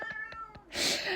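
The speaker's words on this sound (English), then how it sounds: "I'm glad that my cat can be my co-host and just chime in and agree whenever I say something spicy." A house cat gives a few soft short chirps and then a louder, drawn-out meow close to the microphone, with no talking over it.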